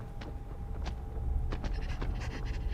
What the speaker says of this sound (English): Oh, that breathing is terrifying.